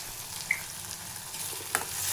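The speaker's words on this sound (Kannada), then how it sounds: "ನಾನು ಸ್ವಲ್ಪ ಫ್ರೈ ಮಾಡ್ಕೊಳ್ತೀನಿ." Tomato and coriander leaves frying in a pan: an even, close sizzle with a couple of brief clinks or scrapes of a stirring utensil, and no voices.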